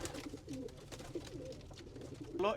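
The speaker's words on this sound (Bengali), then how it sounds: "এটা হলো চুয়া কবুতর একদম পিওর চুয়া কবুতর" Purebred chuya pigeons coo softly in a loft, with low repeated throaty calls heard fairly faintly and a slightly louder coo near the end.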